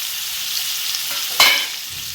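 Green chilies sautéing in a pan for paneer biryani give a steady bright sizzle throughout, with a brief louder crackle of stirring near the middle, close and with no talk.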